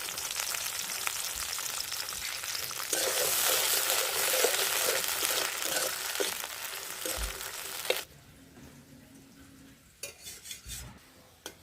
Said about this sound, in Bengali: এখন বটবটিগুলো ভেজে নেব